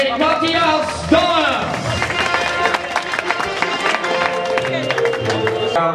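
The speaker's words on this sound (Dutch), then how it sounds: "we gaan een applaus geven aan de nummer 1 aan de mannen Dalm" A crowd bursts into applause for Matthias Dalm, the top finisher in the men's race at De Lus van Almkerk, with scattered clapping and cheering under music and a public-address voice.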